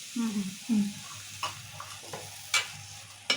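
A spoon stirs mango pieces and chilies in a pan for mango and fresh coconut chutney, soft scraping strokes and a few sharp clinks of utensil on metal, close and fairly quiet.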